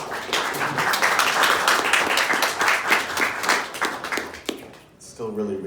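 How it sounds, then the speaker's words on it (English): Audience applause following a poetry reading at an Irish American writers' salon, a burst of close, crisp clapping that thins out and tapers off, with a voice beginning to speak at the very end. "It's still really weird to hear applause for poetry."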